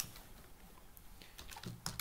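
Quiet typing on a computer keyboard, a soft, irregular patter of key clicks that picks up slightly toward the end.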